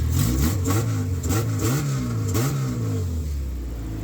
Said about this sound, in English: I'm gonna just let it warm up, give you guys a little rev real quick